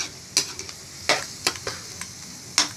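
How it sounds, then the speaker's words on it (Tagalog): Squid is sautéed with onion, tomato, garlic and ginger in a pan, giving a soft background sizzle broken by several sharp scraping and clacking strokes of a utensil stirring at irregular intervals. "Ginisa muna natin sa sibuyas, kamatis, bawang, luya."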